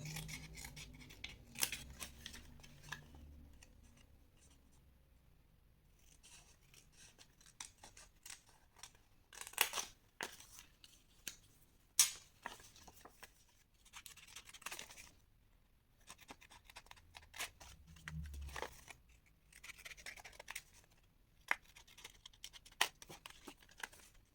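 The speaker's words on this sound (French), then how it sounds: "vous pouvez couper aussi légèrement en biais." Scissors snip through scrapbooking paper for an advent calendar craft, with repeated sharp cuts and crisp slicing strokes coming in bursts, close and fairly quiet, separated by brief pauses and some faint rustling of the paper.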